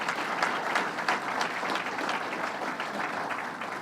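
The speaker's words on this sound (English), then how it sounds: "Let's give her a round of applause." A crowd applauds a county executive during a state fair task force announcement, producing a thick, continuous wash of clapping that stays loud and even from start to finish, with no voices heard over it.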